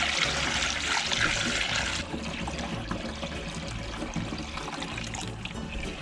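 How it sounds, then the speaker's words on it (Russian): Homemade second-run grape wine pours into containers: a full, splashing gush of liquid that settles into a steadier, thinner stream, with no one speaking. "готовое второе вино заливаем в емкости"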